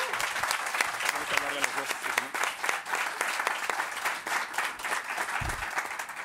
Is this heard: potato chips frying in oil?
no